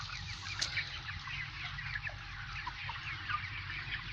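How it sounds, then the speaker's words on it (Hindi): Chickens on a farm cluck and chatter continuously at low volume, with occasional sharper calls from individual hens over a soft background hum. "तो आप देख रहे होंगे मुर्गियों को, ये हमारा अपना ही फार्म है।"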